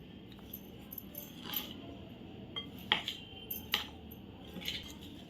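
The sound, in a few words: mixing soaked aliv seeds, coconut and jaggery with a spoon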